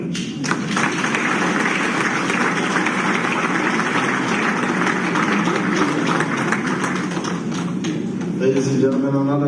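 A conference audience in Freetown, Sierra Leone applauds the Minister of Finance, a steady wash of many hands clapping throughout, with a low murmur of voices under it and a voice emerging near the end.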